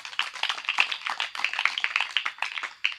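Hands clap in quick, uneven bursts from a small gathering at a birthday meeting in a prayer hall, fairly close and moderately loud, with no voices over it.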